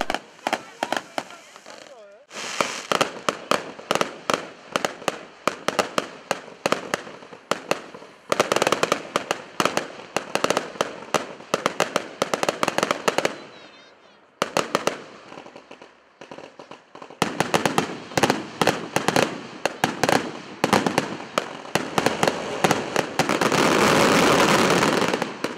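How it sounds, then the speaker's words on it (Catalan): Fireworks display closing a Christmas fair at Riells i Viabrea: rapid bursts of loud cracks and bangs in dense volleys, with short pauses and a roaring crackling finale, a voice talking over parts. "ha tancat la programació d'enguany amb un gran castell de focs artificials"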